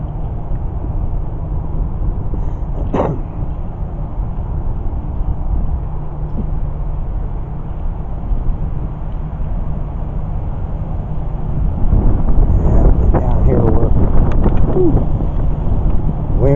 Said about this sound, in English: we do have a breeze blowing through here